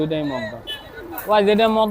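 Pigeons coo at a large pigeon market in Khalishpur, Nayabati, with low, drawn-out calls close by, mixed with nearby voices.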